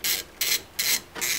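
Four quick, even rasping scrapes sound close up as the fuel filter cover comes off a VW Golf Mk7 diesel.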